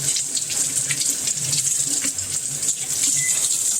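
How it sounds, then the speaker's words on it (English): Cold tap water runs steadily into a sink while potatoes are rinsed and scrubbed, a constant bright splashing hiss with faint knocks of handling underneath. "Just going to rinse them with some cold water. Give them a nice little scrub down."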